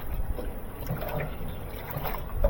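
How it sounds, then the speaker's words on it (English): A repaired GE top-loading washing machine running its wash cycle, with a low churning slosh of water and clothes and soft irregular thumps, fairly quiet and steady. "This machine is actually doing a very good job of washing clothes."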